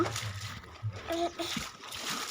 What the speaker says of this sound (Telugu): బకెట్తో ముంచితే అయిపోయి ఒక్క ఒక్క ఒక్క నిమిషంలో బకెట్ నిండుతుంది